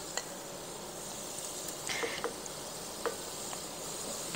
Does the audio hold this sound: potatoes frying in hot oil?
yes